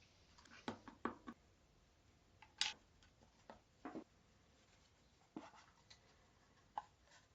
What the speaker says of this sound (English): It's time to assemble everything for the last time and write a postcard.